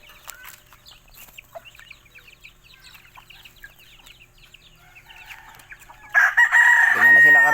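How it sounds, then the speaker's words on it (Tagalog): Backyard pet chickens at feeding time, with soft scattered clucks and pecking sounds building to a loud, close rooster crow near the end, when hens join in clucking. "Pakain muna na tayo ng ating mga manok dito, mga alaga."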